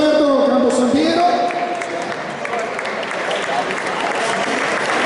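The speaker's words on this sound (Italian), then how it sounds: "Applauso a Roberto Campos Sampiero" Spectators at an amateur boxing event in San Giovanni Lupatoto applaud a ring official, sustained crowd clapping in a hall that starts under an announcer's amplified voice and continues alone.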